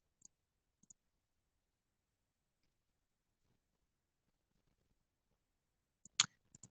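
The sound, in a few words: mouse clicking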